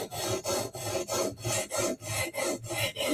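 A handheld knife sharpener rasps along a blade in about ten even back-and-forth strokes, each a close, gritty scrape separated by brief pauses, with no voices.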